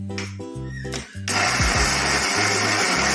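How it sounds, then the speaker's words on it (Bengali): A kitchen mixer grinder blends semolina and sugar, first in short stuttering bursts, then settling into a loud, continuous high-pitched whirring grind. "মিক্সারে ব্লেন্ড করে নিচ্ছে"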